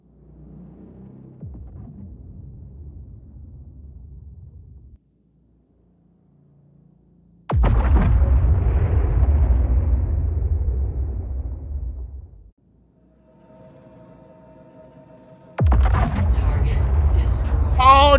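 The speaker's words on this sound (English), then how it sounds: "you need a lot of A1 bombs to destroy a Polaris" A1 bombs detonate on a Polaris ship in the space game Star Citizen. A low rumbling hum gives way to two loud, broadband blasts with a sustained roaring tail, separated by a quieter droning stretch.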